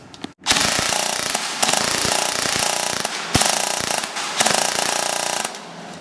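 An airsoft gun with a 385 FPS spring, Systema turbo motor and 11.1 volt lithium polymer battery fires full-auto in a loud, continuous buzzing rattle, with a brief stop near the middle, then trails off at the end.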